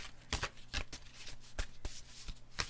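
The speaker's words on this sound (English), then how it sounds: "I'm going to shuffle the cards" Repeated bursts of cards being shuffled, crisp riffling snaps close by, roughly a dozen quick flurries in an uneven rhythm, no talking.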